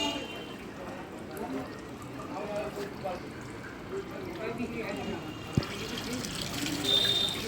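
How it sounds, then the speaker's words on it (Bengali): Water trickling and draining steadily from hanging cloth bundles of chhena (cottage cheese) at a sweet shop, a soft continuous dribble with faint background bustle and a sharp knock near the end. "এই যে ছানা জল বের করা হচ্ছে"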